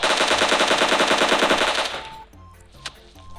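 Rapid automatic gunfire in the video game PUBG Mobile rattles loudly in a fast burst for about two seconds, then stops, leaving a faint background with a single later crack.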